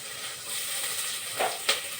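Ginger, garlic and cashews being sautéed in a pan give a continuous close sizzle and hiss. Two brief louder spurts of frying crackle rise near the end, with no talking.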